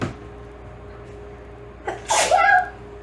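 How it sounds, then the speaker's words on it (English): A person sneezes once, sharp and close, after a short intake of breath, over a quiet room hum. "Sneezed."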